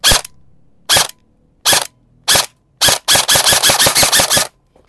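Airsoft rifle, out of the box, rated around 480 to 500 FPS, fired close up: five sharp single shots spaced under a second apart, then a fast burst of about eight rapid full-auto shots, loud with near silence between.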